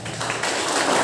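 A group of students breaks into applause, a dense burst of clapping filling the short moment at close range.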